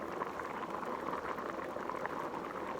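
Pinto beans at a high rolling boil in a pot, a steady dense bubbling and churning that stays loud and even throughout, with no voices.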